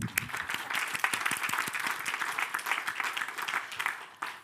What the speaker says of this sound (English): Please, a round of applause to get them woken up.